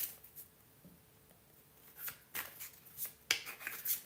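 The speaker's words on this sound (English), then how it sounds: "Let me do the" Tarot cards being shuffled by hand make soft, quiet riffling and flicking sounds in irregular bursts, close and faint, with no talk.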